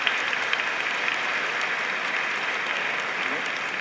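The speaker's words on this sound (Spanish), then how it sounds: "un aplauso para ellos" A church congregation at a diocesan mission opening Mass in Jaén applauds steadily, a dense, even wash of clapping that holds at the same level throughout with no voices rising above it.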